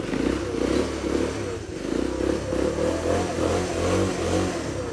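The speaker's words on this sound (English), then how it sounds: "this is how a postie bike should bloody idle" A postie bike motorcycle engine runs at a steady idle, its low, even mechanical thrum and slight clatter continuing close and loud throughout with only small fluctuations and no talking.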